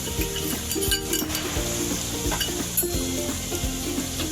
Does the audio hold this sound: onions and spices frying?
yes